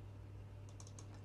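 Quiet, close typing on a computer keyboard, a short burst of light key taps over a steady low hum.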